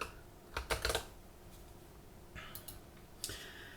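Computer keyboard typing during a software setup, quiet close key clicks in a few short clustered bursts separated by pauses.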